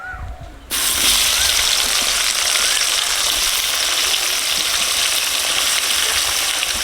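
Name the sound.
onion sizzling in hot oil left from frying potatoes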